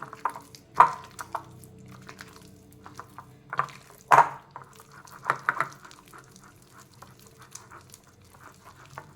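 About four spoonfuls of water go into a thick goli baje batter of flour and sour curd, making a few soft splashes and brief stirring sounds in a quiet kitchen.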